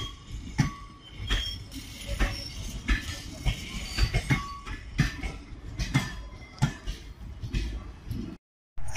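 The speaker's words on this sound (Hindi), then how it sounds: "इस ट्रेन का नाम है बापूधाम एक्सप्रेस, जो कि मुजफ्फरपुर मड़ुआडी जबलपुर है।" The Bapudham Express, a down train, rolls through Katni junction with a continuous rumble of wheels and repeated metallic clanks and clicks on the rails, fairly loud and close, broken by a brief dropout near the end.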